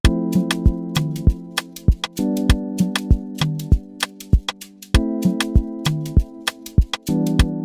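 Low synth chords repeat in a steady pattern, each block of sustained notes broken by short percussive clicks.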